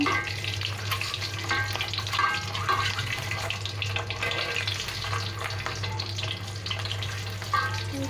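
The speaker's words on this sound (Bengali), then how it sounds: "আর একটু ভেজে নেব আমাদের ডিমগুলো" Eggs lightly salted and frying in oil in a pan give a dense, continuous sizzle up close, with a low steady hum underneath and no talking.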